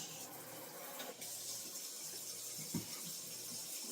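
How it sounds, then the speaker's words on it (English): Water running from a kitchen sink tap for washing up while cooking honey mustard pork chops, a steady faint hiss and splash with one brief clunk. "Let me do a quick wash."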